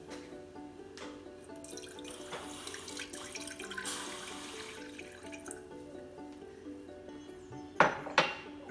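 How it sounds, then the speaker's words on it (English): A cup of water poured into a pot on the stove for spicy milk tea, a steady running stream with clinks of kitchenware and two sharper knocks near the end, close and alone without talk. "I am now going to add 1 cup of water,"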